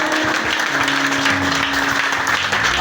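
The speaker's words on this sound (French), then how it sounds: "acclame Jésus" A church congregation applauds steadily, with dense, loud clapping throughout the short stretch.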